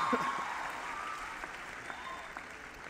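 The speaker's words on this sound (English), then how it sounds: "So give yourselves a real self-congratulating applause." A graduation audience at the University of Trinidad and Tobago claps for themselves, a dense, continuous wash of applause with faint voices and brief tonal sounds mixed in.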